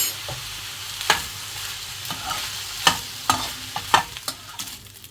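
Stir-frying in a pan with dark soy sauce and vinegar, a soft steady sizzle broken by repeated sharp clinks and scrapes of a spatula at an irregular rhythm, close and without talking.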